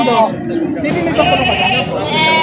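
Goats at a livestock market in Padre Garcia, Batangas bleat loudly and repeatedly close by, the calls overlapping with people talking in the background.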